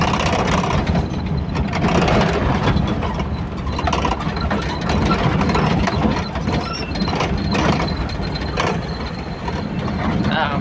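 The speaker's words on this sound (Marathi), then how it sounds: "डीजे गाडी आहे, डीजेवाली गाडी." A DJ truck on a damaged rural road, its engine running loud and steady with mechanical rattling throughout, under faint background voices.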